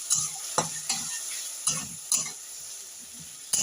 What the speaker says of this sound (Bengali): তেলের মধ্যে আমি দিয়ে দিলাম। আবারও একই প্রসেসে আমি নেড়ে দেবো।